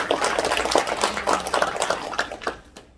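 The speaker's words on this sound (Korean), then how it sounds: "박수로 보내주시고" Audience applause at a Jinju Hyanggyo elder ceremony held in the Myeongnyundang hall, a steady patter of many hands clapping that fades out at the end.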